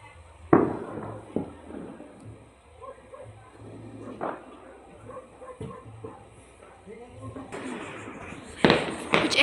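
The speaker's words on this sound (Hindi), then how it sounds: "पटाखे फूट रहे सामने" Firecrackers burst for Dhanteras in a series of sharp, separate pops, some near and loud, others fainter, with a dog and voices in the background and a louder burst near the end.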